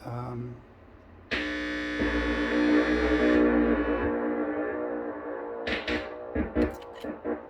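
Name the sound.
PT2399 delay with modulation at its longest echo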